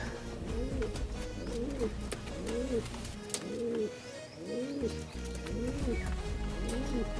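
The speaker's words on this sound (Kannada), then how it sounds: "ಇವಾಗ 4ಕ್ಕೆ 4 ಬರ್ಡ್ ಬಂದಿದ್ದಾವೆ." Racing pigeons coo repeatedly in a steady rhythmic pattern, close by in a loft, with a low rumbling background throughout.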